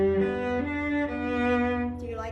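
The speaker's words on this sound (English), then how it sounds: "if you put vibrato on the eighth notes, it's going to sound like this." A cello plays short eighth notes with vibrato, giving a close, sustained bowed tone that wavers gently in pitch as the notes step and glide, heard alone without speech.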